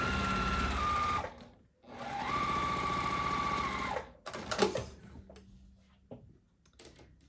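A sewing machine stitches a partial seam on a quilt block in two steady runs broken by a short pause, then gives way to quieter handling clicks and rustles. There is no talking.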